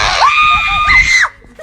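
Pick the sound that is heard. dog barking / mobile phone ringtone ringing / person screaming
person screaming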